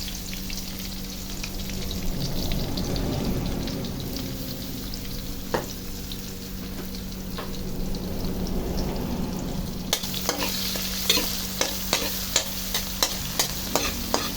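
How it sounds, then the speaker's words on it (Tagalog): Minced garlic frying in hot oil beside already crunchy ginger in a pan for a mud crab dish, with a steady close sizzle and a run of sharp spatula taps and scrapes in the closing seconds. "At ilagay naman natin ngayon yung ating mince na garlic."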